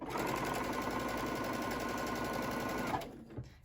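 A sewing machine stitches a quilt block corner to corner along a fold line, running steadily at close range for about three seconds before stopping abruptly.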